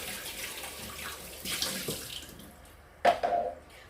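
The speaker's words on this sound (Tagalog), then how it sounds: "pwede na natin lagay yung evaporated milk" Evaporated milk pours and splashes into a pot of sopas soup, with a brief louder gush near the end amid light kitchen clatter.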